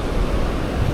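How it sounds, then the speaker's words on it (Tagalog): Big ocean waves surge and crash while fishing off Bolinao, a dense, steady roar of surf with wind rumbling across the microphone, loud and close for a short stretch with no voices. "Laki na alon."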